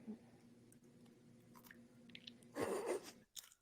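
Edible worms are bitten and chewed, giving a quiet crunch burst followed by faint crackling chews in a hushed room.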